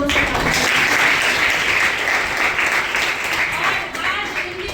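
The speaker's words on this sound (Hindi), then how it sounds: "एक बार उन शहीदों के लिए जोर से तालियां।" A college audience at an Independence Day flag-hoisting gathering applauds loudly and steadily for the martyrs, a dense continuous wash of clapping that fades slightly toward the end.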